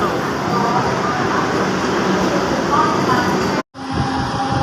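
A Mumbai local train running toward Thane, its steady rumble and rattle loud and close from inside the carriage, with a voice talking over it and a brief dropout near the end.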